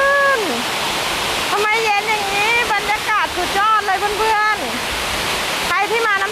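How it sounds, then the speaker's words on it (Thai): A loud, steady roar of Sarika Waterfall in Nakhon Nayok, Thailand, in the rainy season, fills the clip, with a voice talking over the rushing water throughout. "เสียงน้ำตกค่อนข้างจะดังนะคะ ดังมากๆเลยค่ะ"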